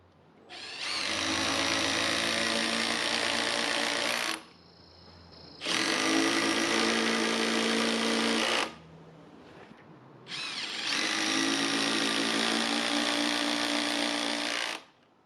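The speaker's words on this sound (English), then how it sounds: "Let's see how the M12 hydraulic driver handles them." A Milwaukee M12 hydraulic impact driver sinks 1/4 inch lag screws into a bracket, three loud, steady, close whirring runs of about three to four seconds each, separated by short pauses, no talking.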